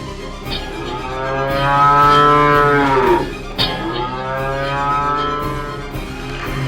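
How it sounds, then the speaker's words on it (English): A cow lets out two long, loud, drawn-out moos during a stage drama performance, the first swelling and falling over about three seconds and the second slightly softer, with no talk over them. "Take this cow away."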